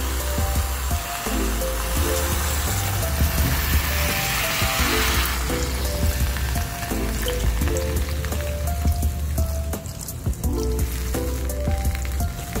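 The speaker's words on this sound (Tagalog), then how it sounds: "Then lalagay na po natin yung pangalawang gata" Second pour of coconut milk into fish cooking in a pan for ginataang galunggong, giving a loud, continuous sizzling hiss like heavy rain that holds steady throughout, with background music and no talking.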